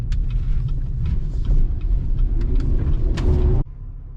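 A 2021 GMC Canyon AT4 Off-Road Performance Edition pickup rumbles steadily over rough off-road terrain, its engine droning loud and continuous with scattered knocks and rattles, then cutting off abruptly near the end.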